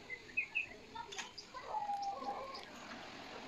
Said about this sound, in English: I heard two birds.